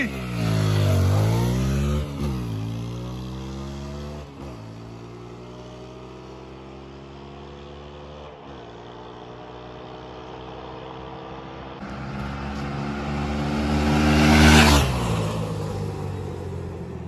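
An Ola S1 Pro electric scooter races an Apache RTR 160 motorcycle from a standing launch, with the motorcycle's engine revving up through several gears in rising sweeps, each gear change clearly marked, then passing close by with a louder surge near the end.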